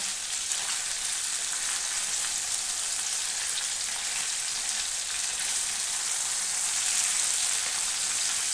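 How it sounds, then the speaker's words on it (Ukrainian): Chicken fillet sizzles and fries steadily in hot oil in a pan while being turned, a dense, continuous crackle heard close up and alone throughout. "Так, додаємо ще трішки олії сюди. Перевертаємо м'яско наше."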